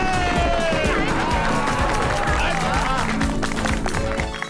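A crowd at a Garba celebration in a residential society claps and cheers loudly for a group of kids, with busy overlapping voices mixed in throughout.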